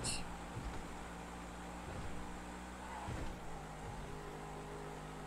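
A car in GTA 5 engine hums steadily under full throttle, a constant tonal drone with small gear shifts, beneath background game noise.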